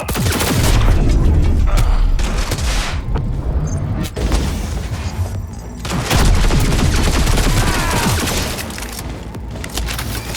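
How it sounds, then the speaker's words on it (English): Heavy, sustained gunfire in a Cyberpunk 2077 firefight: loud overlapping bursts and impacts roll on for about ten seconds, easing briefly in the middle before swelling again. "Enemy contact! I'm engaging!"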